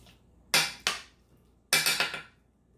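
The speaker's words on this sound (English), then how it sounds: "I'm going to take a spoon here and kind of mix it up a little bit" A spoon stirs seasoning into shrimp and grits in a bowl, making two short bursts of sharp clattering and scraping against the dish with quiet pauses between them.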